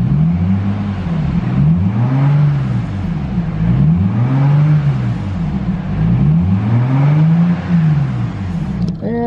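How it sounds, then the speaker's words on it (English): A 1998 Acura RL with 155,289 miles has its engine revved repeatedly near the car. Four or five smooth rises and falls in pitch swell over a steady idle, with no talk. "Let's rev her up here."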